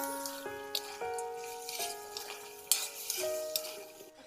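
Duck meat and potatoes fry in a pan with a soft sizzle, punctuated by scattered clinks and scrapes of a spoon against the pan, while steady musical tones play in the background.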